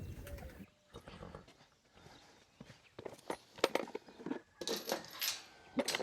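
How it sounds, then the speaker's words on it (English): Doves and Victoria crowned pigeons at morning feeding, soft cooing and calls amid scattered clinks, fluttering and shuffling steps, fairly faint and intermittent. "Doves. Pigeons."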